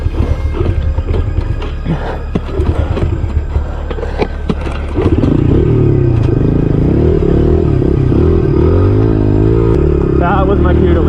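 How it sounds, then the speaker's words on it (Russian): A scooter engine starts up loud and close after clattering and a voice, then drones steadily with wavering revs as the rider turns around and rides off. "Парень быстро развернул свой скутер и уехал оттуда."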